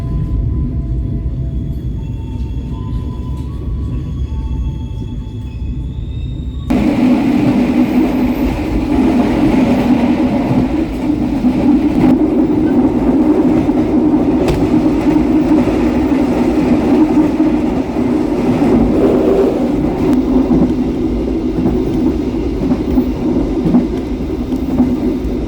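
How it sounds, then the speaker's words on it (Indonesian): A Pasundan economy passenger train pulls into Kutoarjo station with a steady, heavy rolling rumble that swells louder after the first few seconds and holds to the end, with no voices. "Kereta api Pasundan tiba di stasiun Kutoarjo 3 menit lebih awal."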